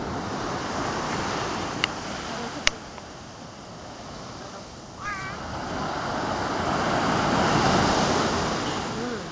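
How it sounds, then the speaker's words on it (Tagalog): Ocean waves wash onto a beach in a continuous windy roar that swells toward the end, with a couple of sharp clicks and a faint bird-like chirp early on. "May alon."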